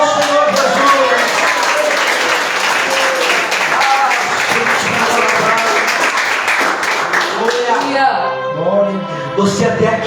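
A church congregation at a men's worship service claps together in a loud, sustained burst, with voices and music mixed in beneath the clapping before it thins out near the end.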